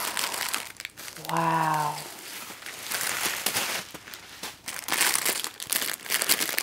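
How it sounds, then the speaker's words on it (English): Plastic packaging crinkles and rustles steadily throughout while gift items are unwrapped, with a brief exclaiming voice near the start and the handling noise continuing loud and close. "Sorry for the crinkling, guys."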